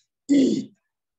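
A single short, close throat-clearing cough during a Quran recitation lesson, one gravelly burst lasting about half a second against silence.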